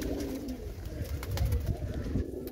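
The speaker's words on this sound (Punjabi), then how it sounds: "ਕਬੂਤਰ ਤੁਹਾਡੇ ਸਾਹਮਣੇ ਨੇ" Pigeons coo continuously at close range in a low, throaty, rolling murmur, with no voices over them.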